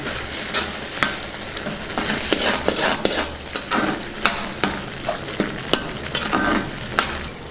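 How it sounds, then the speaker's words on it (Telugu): Green peas pool makani curry seasoned with garam masala, coriander powder and chili powder being stirred in a pan, with steady sizzling and repeated sharp scrapes and taps of the spoon against the pan, close and without talk. "ఇందులోనే కొద్దిగా కారం వేసుకుందాం ఒకసారి బాగా కలుపుకుందాం"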